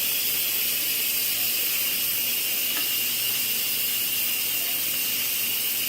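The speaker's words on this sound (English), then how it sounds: "I am frying up some hash browns to go with it." Hash browns sizzle steadily in a pan, a constant close hiss with no voices over it.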